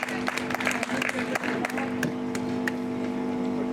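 Clapping from the audience at a Hindi poetry recital, a brief burst of scattered claps that soon thins to a few isolated ones, heard over a steady low hum from the hall's sound system.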